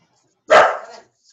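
A dog gives a single loud, close bark, sharp and brief, against otherwise near-silence.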